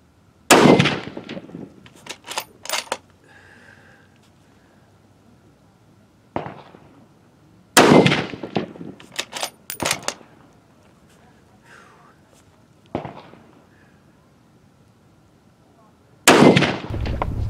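A Mossberg MVP Scout rifle fires from the prone position on a 200-yard range, with four loud, sharp cracks spread several seconds apart, each followed by ringing echo and clatter.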